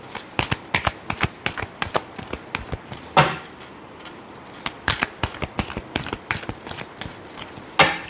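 Tarot cards are shuffled by hand in quick, close riffling bursts, a rapid series of sharp papery slaps with brief pauses and a couple of longer riffles.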